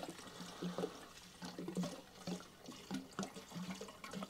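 Fuel poured into the carburetor of a lawnmower with an SV RV150 engine, leaking out the bottom: a near, gurgling trickle in uneven spurts and drips over about four seconds, with no talking.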